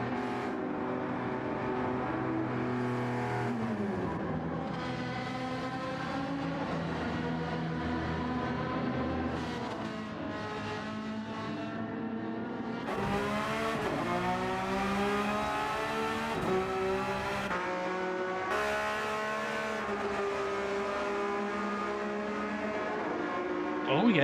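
A Porsche race car pulls out of the pits after a tyre change during a 6-hour endurance race at Yas Marina in Gran Turismo 7. The engine revs loud and close through repeated upshifts, with a commentator talking over it.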